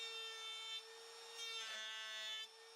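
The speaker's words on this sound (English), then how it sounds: "On each of the ends, I want to put a nice chamfer on the end." Steady abrasive rasping on the end of a wooden piece as a chamfer is cut into it, with a sustained whine, close and moderately loud, shifting slightly in pitch across the passes.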